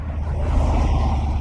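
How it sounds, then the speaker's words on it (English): A car passing close by on a road, a steady low engine and tyre rumble filling the brief moment without any talk. "Another car."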